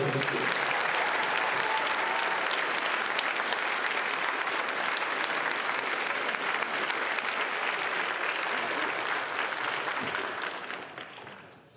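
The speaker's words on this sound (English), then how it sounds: "let's have a big round of applause for Newport Harbor" A large audience gives sustained applause for Newport Harbor at an indoor percussion championship awards ceremony, a dense roar of clapping and crowd noise that holds steady for about ten seconds and then fades out.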